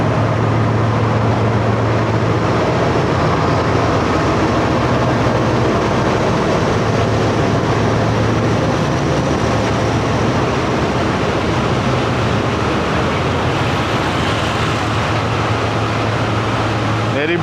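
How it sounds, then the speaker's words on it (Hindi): Steady loud mechanical drone from a train's generator on a Karachi–Rawalpindi passenger express, a continuous low hum with broadband rumble running unbroken throughout, with speech faintly present. "और वही जनरेटर में से ऐसी आवाज़ें आ रही है"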